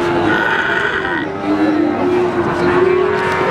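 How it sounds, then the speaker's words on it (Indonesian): A Pegon breed mother cow at the Pon animal market in Pati lets out a loud, close, drawn-out moo that wavers in pitch, with market crowd noise and murmuring voices behind it. "sapi indukan ini"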